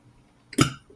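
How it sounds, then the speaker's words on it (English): A single short, abrupt hiccup burp, close and fairly soft, coming out of near silence. "these are like hiccup burps now"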